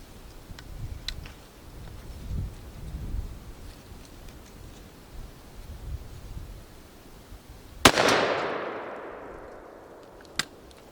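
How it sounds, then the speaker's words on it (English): Shotgun shots fired through an aftermarket choke during a shell-pattern test: one loud sharp blast with a long decaying tail, then a second crisp report a few seconds later, over faint outdoor background noise. "So shoot a couple shots to this and see what that does."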